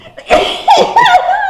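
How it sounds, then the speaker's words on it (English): One loud, close sneeze in a home kitchen during a cooking session, a sharp burst followed by a voiced trailing sound. "I'm sorry, I had to sneeze."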